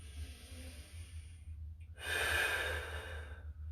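A single deep inhalation taken while holding a static stretch with a stick, starting quiet and swelling into a long, close breath in over a steady low hum.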